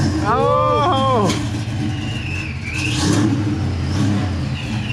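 A Ford Foxbody Mustang engine runs and revs in a mid-pitched surge under ongoing talk and cheering, with a whistle-like squeal rising near the start amid road and wind noise.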